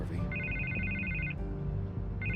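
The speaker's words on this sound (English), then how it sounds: "I can't get the phone to stop ringing." A telephone rings in the Batman Telltale Series video game, two electronic trilling bursts separated by a short pause over low background rumble.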